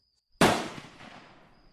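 A single sharp gunshot-like crack bursts out after a moment of quiet, then rolls away in a long fading echo.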